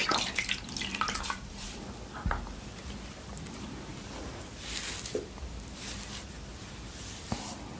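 Water runs steadily from a tap as a face is rinsed at a sink, a soft continuous hiss broken by a few splashes and faint handling noises.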